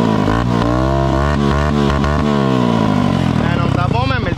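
A kart cross engine with a bad carburetor runs loud and close, its rough uneven note wavering and stumbling as it misfires, with someone talking over it.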